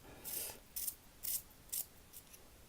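A pencil is sharpened in a small handheld Dom's sharpener, giving five faint, rhythmic rasping twists close by, each about a quarter second long, with nothing else heard.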